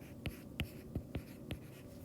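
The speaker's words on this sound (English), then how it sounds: "All right, so let's write that down." Pen or marker strokes while a physics problem about a rotating room is written out, with five distinct tapping scratches spaced irregularly across a quiet room, close and moderately loud.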